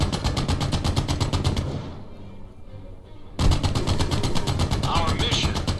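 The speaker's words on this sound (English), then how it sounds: "Pull your other trigger to fire the coaxial gun." Rapid machine gun bursts from a tank's coaxial gun in a World War II VR shooter, loud and sustained with a steady rattling rhythm, pausing briefly in the middle before firing resumes.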